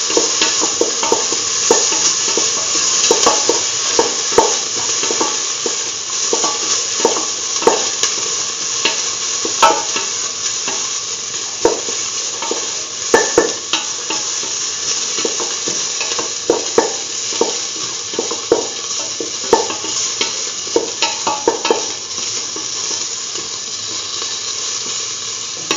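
Chickpeas sautéing in a pan while being stirred, a constant loud sizzle with frequent scraping clicks of the spoon against the pan, no talking.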